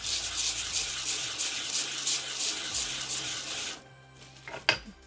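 Sanding a handmade ceramic tile, a steady scratchy rasp running for about four seconds before stopping, followed by a few faint clicks and a short scrape near the end.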